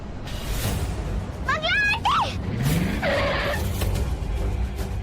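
A car brakes and skids to a stop: short, high squealing tire chirps rise and bend over a rumbling engine, followed by a brief screech, with people speaking around it.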